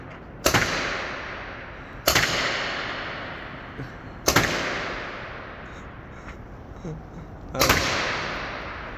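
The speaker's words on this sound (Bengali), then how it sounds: "কিভাবে ফায়ারিং করছে আমাদের দাদু, শত্রুপক্ষকে ঘায়েল করার জন্য।" Four loud gunshots ring out in the video game Free Fire, spaced about two seconds apart, each a sharp crack with a long fading tail over a quiet background hiss.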